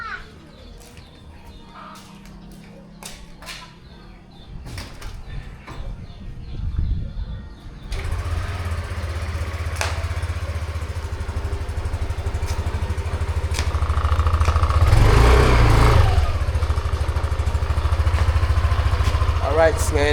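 A Yamaha NMAX scooter idles while warming up after a long time unused, a steady low engine drone that starts partway through and continues loudly, with birds cooing and some background noise before it.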